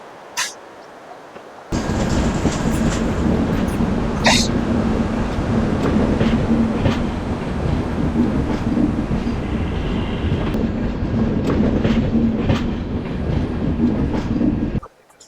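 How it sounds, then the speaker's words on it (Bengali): The Visakhapatnam–Araku Vistadome train pulls out of Vizag station and rolls on with a steady rumble and rhythmic wheel clatter. It is heard from inside the carriage, with a few brief knocks and a voice near the start. "6:57 বাজে আমাদের ট্রেন ছেড়ে দিল ভাইজ্যাক স্টেশন।"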